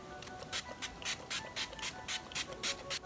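A spray bottle of face mist gives a rapid series of short, crisp hissing spritzes, about a dozen in quick rhythm, close by.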